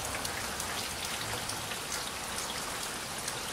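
Steady rain falls on a rainy day in Georgia, an even, close hiss of drops on surfaces with scattered pattering that holds at the same level throughout, with no voices.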